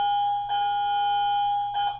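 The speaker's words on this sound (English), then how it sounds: "sorry about the bell that keeps on ringing" An electronic bell rings steadily in a classroom setting, a sustained tone that swells in repeated pulses about every second and a quarter, with no speech over it.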